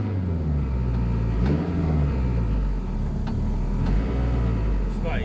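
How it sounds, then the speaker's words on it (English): A turbocharged K20-engined Mk2 Ford Escort with a dry sump and a sticking throttle revs in dense low rumbling waves, with a few throttle blips rising and falling over a steady loud engine drone while people talk nearby. "Flip the throttle, just flip it."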